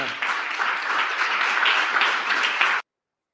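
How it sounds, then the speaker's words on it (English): Dense crowd applause from a played-back recording of a speech: a steady, fairly loud wash of many hands clapping that runs for nearly three seconds and then cuts off abruptly into silence. "Listen to the delay of the clap again"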